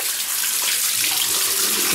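Trapped air and water purge from a home heating boiler system with a hissing, sputtering rush of water, broken by gurgles and bursts of air. The sound is steady and close, with no talking.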